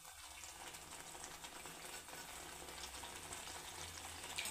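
Wet masala paste sautéing in a pan for a cauliflower and bombil (Bombay duck) curry, giving a steady close sizzle and crackle throughout, with faint stirring scrapes and no talking.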